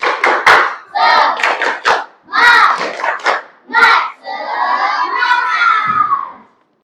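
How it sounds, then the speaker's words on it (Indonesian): A class of students loudly performing the tepuk semangat clapping chant in a classroom, with rhythmic bursts of shouted syllables and claps in quick groups, ending in a long drawn-out collective cheer that fades. "Sebaiknya kita tepuk semangat biar kita semangat, oke?"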